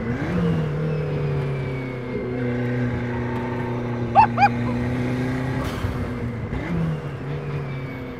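A turbocharged front-engine, rear-wheel-drive Lotus 7 kit car engine drones steadily at close range while driving, its low harmonic hum holding fairly even with a couple of brief higher chirps midway.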